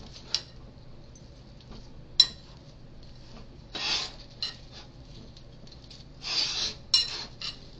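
Spoon scraping and rubbing in a dish as roasted sage potato wedges and lacinato kale are tossed together, short soft scrapes with a few light ticks, quiet and close.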